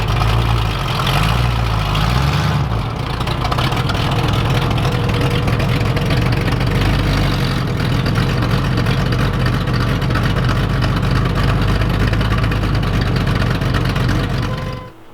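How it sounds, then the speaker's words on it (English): A 1986 Chevrolet Camaro IROC-Z with a swapped engine and 5-speed idles loudly and steadily close by, with a brief shift in tone near the start, a deep continuous rumble with no talking. "So, I'll back the car up"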